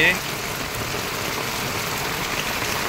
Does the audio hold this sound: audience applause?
no